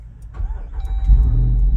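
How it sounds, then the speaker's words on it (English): A Jeep Wrangler 392 cranks over and catches, then settles into a deep, close idle with a steady low rumble and no talking. "So first thing is, we got to start the car up."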